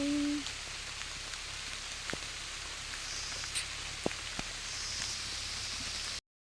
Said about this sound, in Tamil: மழை மழை மழை